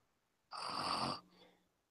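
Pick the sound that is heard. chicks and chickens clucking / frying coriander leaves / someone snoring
someone snoring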